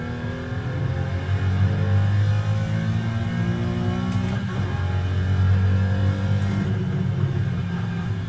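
Race car engine in a racing video game during a quick two-lap race, a steady loud droning roar that rises and falls with revving and gear changes, with no talk over it.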